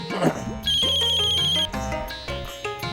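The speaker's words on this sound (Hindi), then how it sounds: "ये किसका फोन है?" A phone ringtone plays loudly in a bright, repeating electronic melody, with a brief voice at the start.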